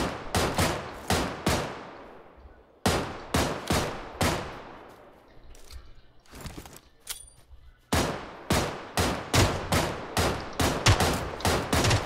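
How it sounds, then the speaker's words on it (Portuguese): Loud gunshots ring out in PUBG Lite, fired in several rapid volleys of sharp cracks with echoing tails and brief pauses between bursts, close and without speech. "Olha lá, tô atirando em você"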